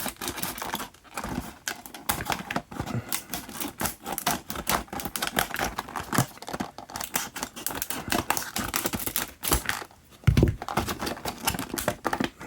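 Die-cast toy car packaging is cut open, giving a continuous run of close, rapid clicking, snipping and crinkling plastic sounds in irregular bursts, with one sharper knock near the end.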